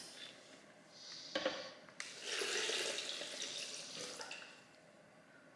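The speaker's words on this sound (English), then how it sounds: "And I'm going to add a little water." Water poured into a cooking pot holding thyme for pork-hock pozole, a quiet splashing pour that rises, runs for a few seconds and tapers off, heard close by in a kitchen.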